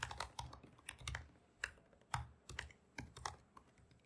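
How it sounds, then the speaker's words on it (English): Keys clatter on a computer keyboard in quick, uneven bursts of close, crisp clicks, with short pauses between them, in a quiet room. "Getting a bit ahead of myself there with the typing"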